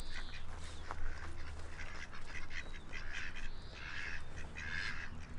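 Ducks calling at a park in an irregular run of nasal quacks and honks, fairly close, over steady low outdoor background noise with no one speaking.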